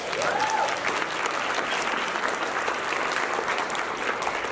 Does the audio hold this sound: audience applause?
yes